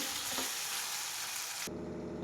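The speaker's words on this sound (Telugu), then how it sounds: "చూడండి అంతా తాలింపు కోసం అన్నీ వేసినాను" Spices for an upma tempering sizzle loudly and continuously in hot oil, then the sound cuts off abruptly.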